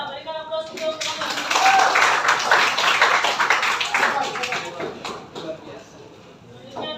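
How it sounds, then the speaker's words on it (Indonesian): A classroom of students applauds a group, with dense clapping that builds quickly, holds for several seconds and then fades out, mixed with some voices. "Ya, berikan aplaus untuk mereka."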